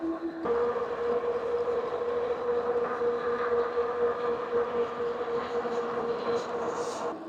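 A Kingbull Hunter 2.0 fat-tire electric mountain bike is ridden under pedal power with its upgraded controller, producing a steady whirring motor hum and rolling tire drone that holds continuously and fairly loud throughout.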